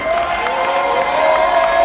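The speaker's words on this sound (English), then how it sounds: "I want you guys to clap the loudest as you possibly can for Jesus." A church congregation claps and cheers for Jesus in a dense, loud burst of applause, with shouts and whoops from the crowd mixed in throughout.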